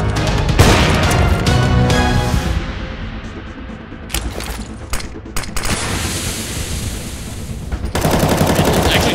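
Gunfire through a wall in CS:GO, a burst of rapid game shots with loud sharp impacts over several seconds, broken by a lull and resuming near the end.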